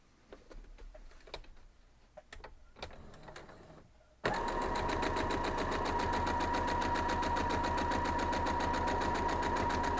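A sewing machine stitches a small red piece onto a star quilt block, running in one steady, loud, continuous burst after a few seconds of quiet handling clicks and rustles.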